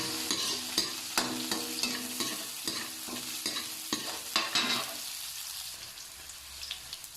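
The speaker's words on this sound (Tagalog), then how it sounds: "Pati yung sili guys, sabay-sabay na natin gisahin guys" Chicken and chili peppers sautéing in a pan for chicken ginataan, with sharp rhythmic scrapes of stirring over a steady sizzle that thins out toward the end, no voices.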